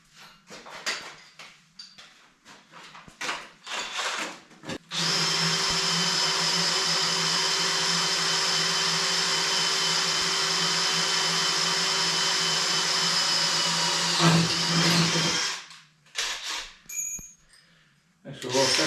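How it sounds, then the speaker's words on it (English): A power drill runs continuously for about ten seconds, drilling through material thicker than expected while making a B2401 tool holder, with softer shop handling noises before and after. "I had a battery go dead, so I'm drilling that right now."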